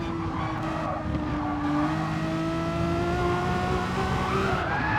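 A GT race car in a racing video game at Mount Panorama snaps sideways onto the grass, its engine droning loudly with a long tire squeal and sliding pitch that rises toward the end, heard alone without talk.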